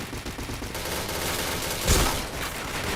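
Rapid gunfire in the shooter game PointBlank, a continuous fusillade of game-weapon shots with a louder burst near the end, dense and steady throughout.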